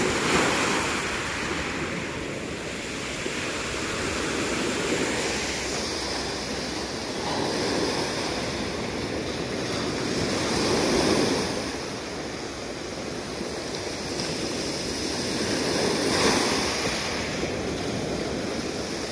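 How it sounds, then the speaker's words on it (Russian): Sea surf rolls and breaks continuously on a beach in Turkey, a broad steady wash of waves with gentle swells in loudness and some wind rumble, no voices. "На нашем пляже не такие волны сильные"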